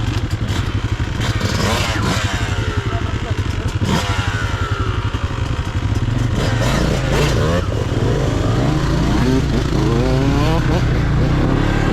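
A dirt bike or quad revs in the Yukon forest, its loud engine droning steadily throughout with rising and falling throttle sweeps, while people talk over it.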